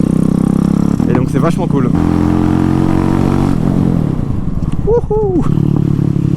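A Honda MSX motorcycle fitted with a Zongshen 212cc engine, riding close by with a loud steady engine drone and shifting revs, with a rider talking and whooping over it.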